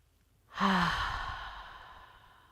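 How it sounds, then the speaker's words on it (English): A single deep breath during a guided contemplation, drawn in and released as a long audible sigh, close and clear, swelling quickly and then fading slowly into quiet. "Take a breath with me."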